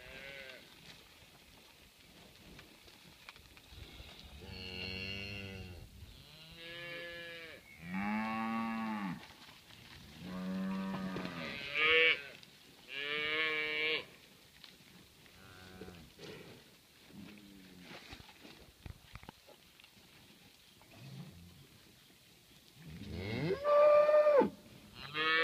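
Crossbred cattle moo repeatedly from a wooded pasture, several long loud calls spaced across the stretch with quieter lowing between, alone without talk.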